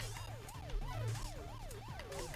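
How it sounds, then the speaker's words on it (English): A rising-and-falling electronic danger siren wails repeatedly in Tetris The Grand Master 2, each sweep quick and regular over quiet game sounds. "I appreciate the siren when I'm about to die"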